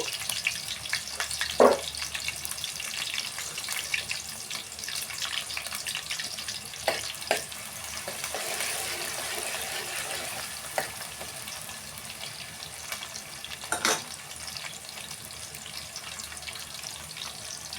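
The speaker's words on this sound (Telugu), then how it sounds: "ఇదిగోండి ఈ విధంగా వేగాయి ఉల్లిపాయలు బాగా వేయించుకున్నాము" Thinly sliced onions fry in hot oil for a fish curry, giving a steady soft sizzle with occasional clinks and stirring sounds throughout.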